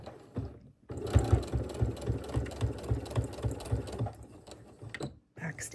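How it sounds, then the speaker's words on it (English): A sewing machine stitches down the sides of a fabric gift card holder, running in a fast steady mechanical rattle for several seconds with a brief pause early on and a stop near the end. "We're gonna sew a stitch down this side and a stitch down this side."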